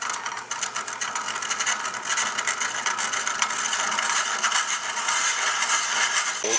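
Wood lathe with a Clark deep hollowing system and a 3/4 inch bit tilted about 15 degrees cutting inside a large turning, a continuous rough hissing, scraping cut with faint motor hum, close and steady, no talk.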